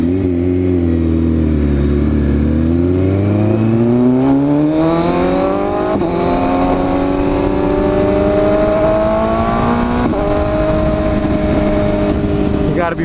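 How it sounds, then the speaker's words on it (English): A loud motorcycle with an SC Project CR-T exhaust revs hard, its exhaust note climbing in pitch through the gears as it accelerates nearby. "a very, very loud exhaust, and the Supra that's also modded out with an exhaust"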